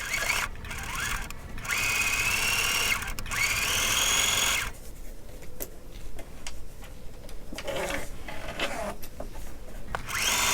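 A sewing machine back stitching a seam on a zippered bag, running in rapid mechanical bursts with short pauses, close and fairly loud, with no speech.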